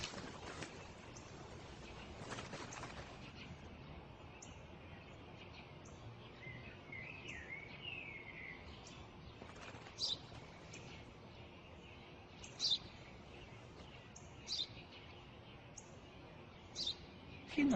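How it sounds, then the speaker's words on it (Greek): Sparse high chirps of a sparrow come every couple of seconds against a quiet, steady background, with some faint rustling early on. "σπουργίτη είναι."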